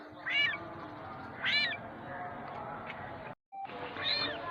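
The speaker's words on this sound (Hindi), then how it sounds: "ये 3 कैट ने बच्चे दिए हैं। देखिए कितने क्यूट से हैं" Newborn kittens in a house give three thin, high-pitched meows at close range, spaced about a second apart, over low room noise with a brief silent gap near the end.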